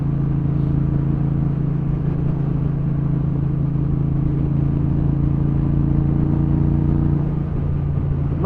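A Triumph Bobber motorcycle engine runs steadily at low revs, a loud, close, continuous deep rumble with a throbbing low hum that holds unchanged throughout, with no voices.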